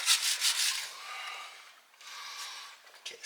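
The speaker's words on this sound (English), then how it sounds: "I was gonna wire brush this whole face off so I could see the numbers on the block anyway" A wire brush scrubs the face of an engine block on a 1963 Buick Special, giving a steady, close, hissing rasp in two long strokes separated by a short pause.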